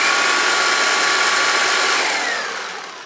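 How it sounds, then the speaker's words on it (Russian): A Faberlic vacuum cleaner running in turbo mode gives a loud, steady whirring roar close by, easing down slightly in its final second. "Хороший пылесос."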